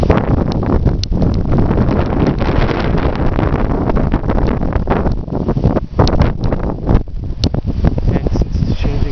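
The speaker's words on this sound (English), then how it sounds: "And here comes the wind again." Strong wind gusting during a summer thunderstorm, a loud, continuous roar buffeting the microphone and rising and falling slightly for several seconds.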